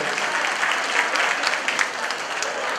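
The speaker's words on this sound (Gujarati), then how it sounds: "બધા જોરથી તાળી પાડીને વધારે કરશો" An audience at a Prajapati community gathering, the Sneh Sammelan 2023, claps loudly, a dense, sustained round of applause from many hands filling the hall.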